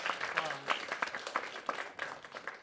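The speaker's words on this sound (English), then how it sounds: "Round of applause." Scattered clapping from a small audience at a screening, steady and moderate, with voices murmuring underneath.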